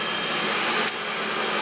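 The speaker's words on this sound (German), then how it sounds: "Ihr hört vielleicht im Hintergrund, mein Staubsauger macht gerade die Wohnung fresh." A household vacuum cleaner runs in an apartment, giving a steady, even whine and roar that holds throughout, with one brief sharper hiss partway through and no voices.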